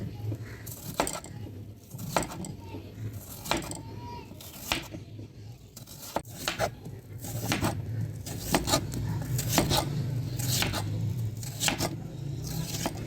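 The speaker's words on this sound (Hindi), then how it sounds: "तो आलूओं के मैंने छिलके उतार दिए हैं। तो अभी मैं इसकी कटिंग कर लूँगा।" Knife chops peeled potatoes on a board in a home kitchen for a potato-and-egg Ramadan recipe, with sharp repeated cuts in an irregular rhythm, close and clear, alongside faint clinks of utensils.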